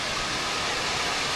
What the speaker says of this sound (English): Upward waterfall.